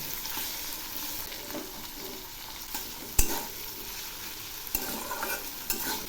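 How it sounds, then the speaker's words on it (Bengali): Greens for a fourteen-leaf shaak dish are stirred in a frying pan, a continuous sizzle with scattered scraping clicks of the spatula against the pan, close up. "আবারও একটু নেড়ে দিচ্ছি"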